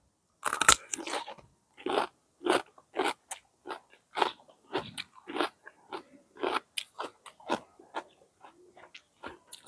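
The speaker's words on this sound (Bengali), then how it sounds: "দেশি শসা আমি একটু খাইয়া চেক করে আপনাদের বলি যে আসলে স্বাদ কেমন" Someone bites into a crunchy, unwashed local cucumber and chews it, giving a steady run of close, crisp crunches with short pauses between bites and no talking.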